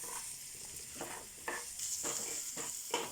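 Onions with a little salt frying in a pan while being stirred, a steady sizzle broken by regular scraping strokes about every half second, close and alone with no voices.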